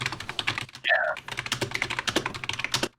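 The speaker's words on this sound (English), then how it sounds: "typing as loudly as he can" Loud, rapid clatter of keys on a computer keyboard, a dense run of sharp taps continuing throughout, with a brief tonal sound near the start.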